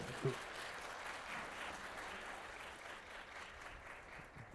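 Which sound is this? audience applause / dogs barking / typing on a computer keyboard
audience applause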